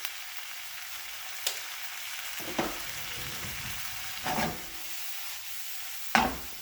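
Pepper flakes fry in hot coconut oil with a steady sizzle, broken by a few sharp stirring scrapes and pops at irregular intervals.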